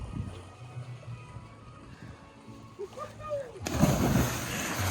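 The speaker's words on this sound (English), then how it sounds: "just jumped in the ocean" A person jumping into the ocean off Cozumel at a beach park, a sudden close splash and sloshing water near the end after a quieter stretch with some faint voices.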